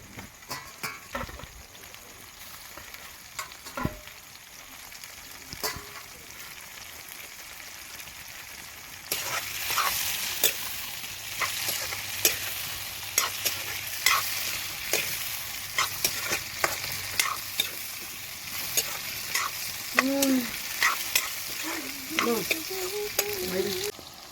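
Meat frying with onion, ginger, garlic and turmeric in a kadai, quiet at first, then a loud sizzle jumps in with frequent sharp scrapes and clanks of stirring, close and with no speech.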